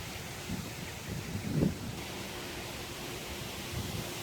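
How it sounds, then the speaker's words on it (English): Wind buffets the microphone outdoors in a constant low roar, with gusty thumps rising and falling throughout. "it's very windy today. I hope this audio isn't too bad."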